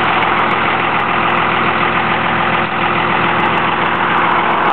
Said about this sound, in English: 5-speed Cummins 24-valve ISB turbo diesel